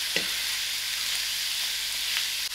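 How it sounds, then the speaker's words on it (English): Cabbage simmering in a pan over very low heat gives a steady, even sizzle with faint frying crackle throughout, close and continuous, with a brief soft knock near the start. "my cabbage is cooked out. It's been cooking on a very low heat"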